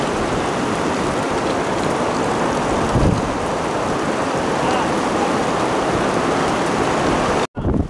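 Heavy rain with hail pours steadily in a dense, loud hiss that fills the whole scene, broken only by a brief drop near the end.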